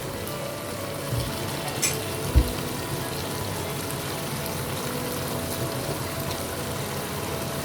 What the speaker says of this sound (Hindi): तो मैं बस अब इसमें हाफ़ कप पानी डालूँगी